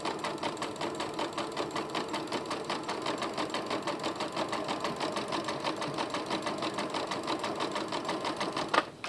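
A sewing machine fitted with a beading foot stitches beads onto fabric, its needle chattering in a fast, even mechanical rhythm close up, ending with a brief clunk.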